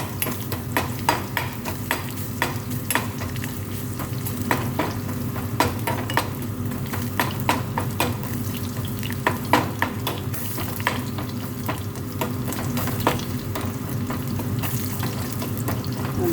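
Garlic fries on low gas in a pan for lemon rasam, a soft steady sizzle under a low background hum, with repeated light clicks and taps of stirring.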